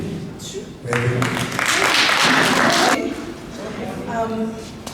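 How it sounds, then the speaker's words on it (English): An audience applauds at a neighbourhood watch celebration, a burst of clapping swelling for about two seconds, with a person speaking before and after it. "So please round of applause for Debbie."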